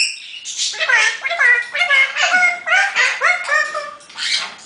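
A rescued pet parrot squawks loudly and close by, a steady run of harsh, repeated calls with short gaps, no other sounds around them.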